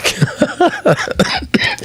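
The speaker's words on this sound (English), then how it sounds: "This cough sounds worse than what it is." A rapid series of harsh, hacking coughs, several bursts in quick succession, loud and close.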